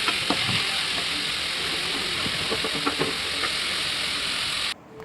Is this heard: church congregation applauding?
no